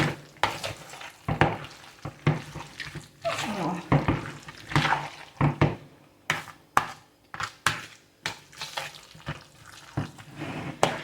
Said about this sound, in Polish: I teraz znowu wszystko razem wymieszać.